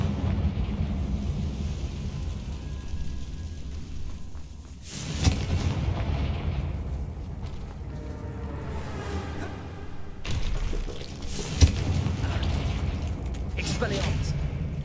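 Confringo fire spells in the video game Hogwarts Legacy set off two booming explosions, one in the middle and one near the end, over a rumbling game soundscape with voices speaking.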